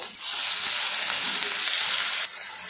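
Chopped tomatoes with a pinch of salt fry in hot oil after a tempering, giving a loud, dense, steady sizzle up close that drops abruptly to a quieter hiss near the end.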